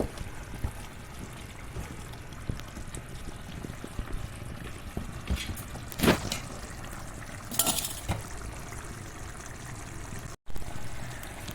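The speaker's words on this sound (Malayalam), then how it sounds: "കുറച്ച് വെള്ളം ഒഴിക്കട്ടെ" Water poured into a pan of chicken biryani masala, a soft running splash with brief clinks of a vessel against metal over a continuous low kitchen hiss; no voices.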